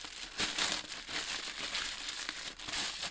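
A cut-up sheet of big plastic bag is crumpled by hand into creases, giving a close, continuous crackling rustle with a few louder crinkly bursts.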